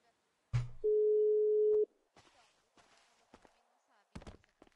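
A steady phone dial tone rings out for about a second during a call placed in a Brazilian GTA roleplay server, framed by a sharp thump and footsteps with faint voices nearby.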